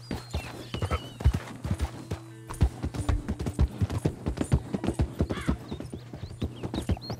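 Horse hooves clip-clop in a steady walking rhythm in the video game Red Dead Redemption 2, close and clear throughout the clip, with soft hints of snorting and no talk over them.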